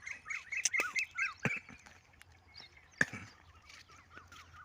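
Birds call across a village farm field in India at sunset, with rapid chirps and quacking bursts coming in clusters, fairly faint and spread out. Now and then a sharp knock or click stands out.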